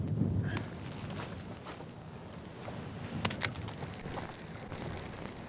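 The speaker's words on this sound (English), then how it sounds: "Wind's bad today" Wind gusts buffet the microphone on open water during a fishing trip on Bull Shoals Lake, a steady low rumble with a few faint knocks from the boat and no voices.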